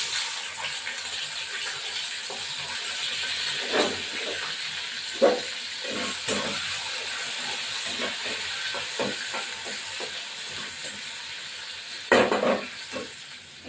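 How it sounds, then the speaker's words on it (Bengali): Onions sizzle steadily in hot oil in a pan while being stirred for a Bengali chicken curry, with a constant frying hiss and soft clinks and scrapes of a spoon at irregular intervals, close and fairly loud, without talk. "পেঁয়াজটা ভাজবো এই যে হালকা রকম পেঁয়াজটা আছে পেঁয়াজটা এখন দিয়ে দেবো"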